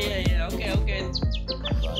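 A person imitates a bird with their lips during a League of Legends game stream, producing a rapid series of bright, chirping whistles over steady game sounds.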